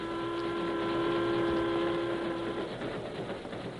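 A train rumbles steadily with a low, close roar, steady sustained tones ringing above it for most of the clip before thinning into broadband rail noise.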